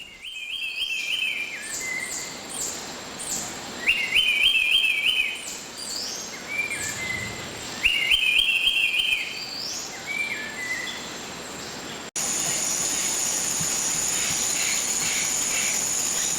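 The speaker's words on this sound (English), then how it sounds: "I found a green kingfisher." A green kingfisher calls in Belize in a series of high, repeated chirping phrases that come in bursts about every four seconds. Constant cricket and insect buzzing fills the background, and a steadier insect drone takes over near the end.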